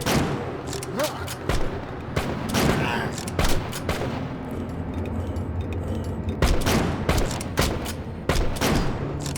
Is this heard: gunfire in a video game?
yes